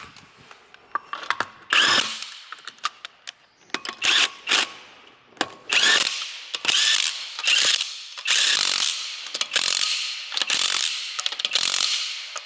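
Ratchet tightening lug nuts on a Hyundai Elantra wheel, close and loud, in repeated bursts of rapid clicking separated by short pauses.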